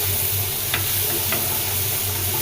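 Sweet pumpkin slices frying in a pan give a steady close sizzle with a couple of faint clinks, continuous and alone without any voices.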